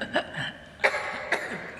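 A few short coughs in a church setting, two sharper ones standing out against a quiet room tone and a faint murmur.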